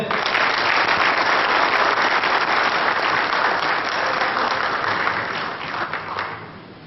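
Crowd applause at a pétanque masters event in Madagascar, a loud continuous roar of clapping that holds steady, then thins and fades near the end.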